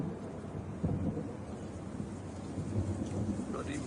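Steady rain pours down through a thunderstorm, with low, rolling thunder rumbling beneath the constant wash of falling drops.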